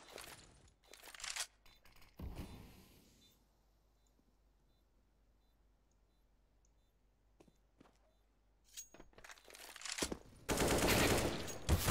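Rapid AK-47 bursts in the video game CS:GO crack out loudly at the start and again near the end, with a long quiet stretch of faint clicks and ambience between them.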